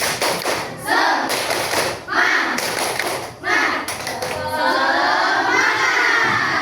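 A school class performs a rhythmic clapping chant, bursts of unison claps and thumps alternating with shouted children's voices and cheering, loud and close in a classroom.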